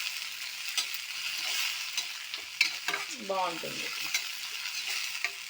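Tomatoes sizzling in a hot pan, a steady bright frying hiss close by with a few stirring scrapes. A brief spoken word sounds partway through.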